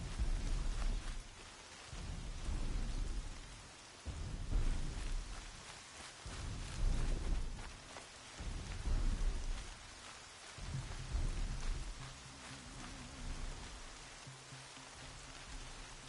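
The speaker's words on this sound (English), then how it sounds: "Rain, rain, go away." Steady rain falls in the video game Horizon Zero Dawn while deep thunder rolls and rumbles repeatedly throughout, loud and close, with no talking.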